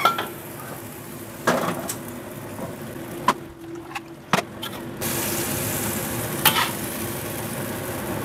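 Barbecue sauce is poured into a hot pan of squid and water spinach stir-fry, with sharp pan knocks and utensil clicks over a low sizzle that swells into a louder, steady frying hiss midway.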